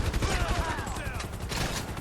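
Bursts of gunfire from the video game GTA V crackle through a busy game soundscape, rapid shots layered over other game noise.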